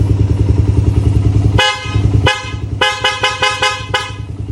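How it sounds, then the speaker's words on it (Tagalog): Loud horn on a motorcycle fitted with extra lights, sounding as one long blast followed by a series of short repeated honks over the idling engine. "Kasi ito yung malakas na busina."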